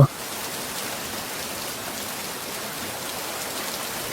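Steady rain falls in a dense, even hiss that continues without a break, with no voices over it.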